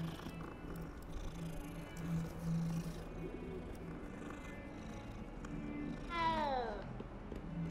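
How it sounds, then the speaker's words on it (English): A cat in the video game Hogwarts Legacy gives a short rising meow near the end, following a soft purring, close and moderately loud over a steady game-music bed. "Hey, it's another cat."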